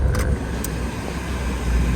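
Inside a 1972 Oldsmobile 442 tribute car cruising on the road, a steady low engine and road drone hums continuously, with a couple of brief light clicks near the start.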